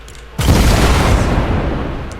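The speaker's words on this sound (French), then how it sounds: "Ok, et donc explosion." A Fortnite explosion bursts suddenly into a loud, dense boom that sustains as a rumbling, crackling roar and slowly fades over about two seconds, with no voices.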